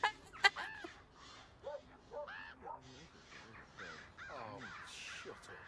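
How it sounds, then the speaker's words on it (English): A large bird, likely a crow, caws repeatedly outdoors at a moderate distance, its harsh calls interleaved with people chatting and laughing nearby. "That's a big bird."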